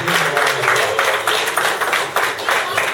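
A church congregation gives a loud round of applause to God during a Spanish-English bilingual service, with dense, sustained clapping filling the room and rising in pulses.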